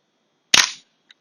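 A Tokyo Marui MWS gas airsoft rifle fires once with a sharp, fairly soft crack as the trigger drops the bolt, followed by a tiny faint click, close and alone.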